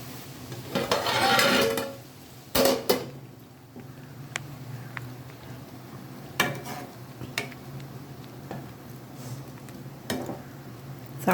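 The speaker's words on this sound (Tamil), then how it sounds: "அதனால் கொஞ்சம் மூடி வச்சிடலாம்." In a kitchen, a lid goes onto a pot of simmering okra and drumstick sambar with tamarind, giving sharp metallic clanks and scattered clinks amid soft rustling, with no talk.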